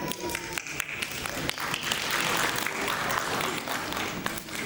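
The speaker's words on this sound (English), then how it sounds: "I would like you to welcome all of our graduates with a huge round of applause again" Audience applause welcoming graduates at a school annual day, steady crowd clapping throughout at moderate level, with a few sharper individual claps standing out near the start.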